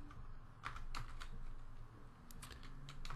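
Fingers type code on a computer keyboard, producing a handful of scattered, light clicks close by over a low background hum.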